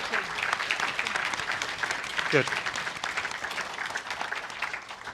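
Audience at a Q&A session with a festival guest applauding steadily throughout, a dense even clatter of clapping with a host's voice briefly heard over it.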